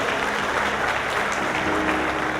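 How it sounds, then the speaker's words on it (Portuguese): A church congregation applauds during worship, a thick, loud burst of hands clapping together that fills the space without pause. "aplauda ao Senhor"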